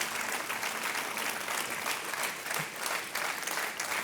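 A television game-show studio audience applauds steadily, with dense, sustained clapping from a large crowd that swells and dips slightly in waves at moderate loudness.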